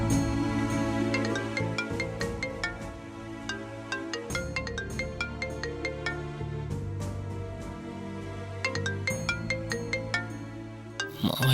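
A phone ringtone plays during an outgoing call, a bright repeating melodic tone with regular rhythmic pulses, continuous and fairly loud with no talking.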